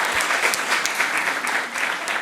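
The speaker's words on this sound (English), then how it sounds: "A round of applause for them." An audience applauds at a school quiz contest between junior high school teams, a dense, steady burst of clapping that continues evenly throughout.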